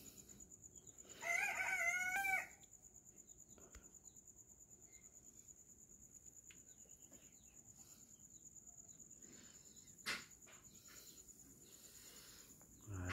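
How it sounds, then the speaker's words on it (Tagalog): A rooster kept among backyard Brahma chickens crows once, close and loud, in the dark before dawn, against a steady background of chirping crickets and insects. "bantayan natin mga alaga, ang ating mga alagang manok"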